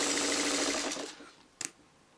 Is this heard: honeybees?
no